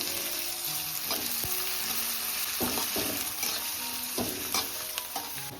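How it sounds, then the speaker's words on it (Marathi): Finely chopped onion sautés in a pan, a dense continuous sizzle with intermittent scraping stir strokes, close and steady, no voices. "आणि आता आपण बारीक कांदा कापले तो सुद्धा ऍड करू."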